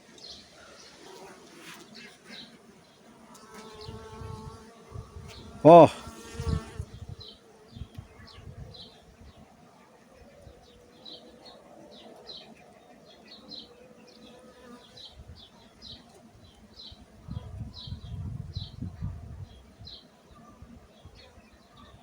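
Honeybees buzzing at a hive, a faint droning hum with scattered higher buzzes and a brief loud thump, while a person speaks briefly nearby.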